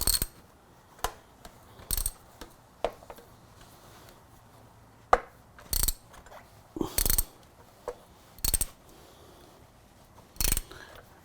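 A ratchet wrench with extensions works on the exhaust of a Yamaha R6 during a slip-on exhaust install, giving about a dozen short sharp metallic clicks and clacks spaced irregularly, close up over quiet background.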